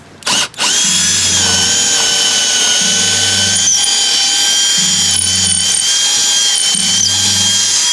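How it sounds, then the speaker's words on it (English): A power drill with a 5/16 bit bores through a dinghy transom, a loud close high-pitched whine running continuously, with a low pulsing grind from the bit recurring every couple of seconds. "Now I'm actually go to the 5/16 drill bit, which the manufacturer recommend."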